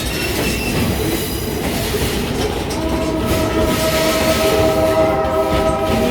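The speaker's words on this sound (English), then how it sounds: "Now you're about to hear 4 train blasts, hopefully." Train horn at a Stone Mountain Railroad crossing, long sustained tones in a 2-long, 1-short, 1-long crossing pattern rising over steady rumble and clatter of the rolling train, loud and fairly near.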